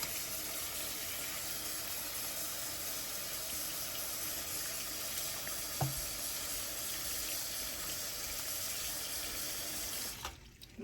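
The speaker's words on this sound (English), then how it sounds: "run some hot water in there." Hot tap water pours steadily into the neck cavity of a raw Thanksgiving turkey in a sink, a continuous close rushing hiss with one brief knock partway through.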